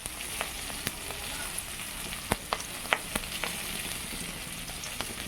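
Green chillies sizzling and frying in hot oil with black cumin, a steady close hiss with scattered pops and crackles throughout, no talking.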